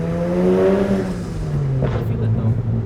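A BMW 335i with a burble exhaust tune, tuned to about 450 wheel horsepower, revs and then drops off with a crackling burble, while people talk over it in the car.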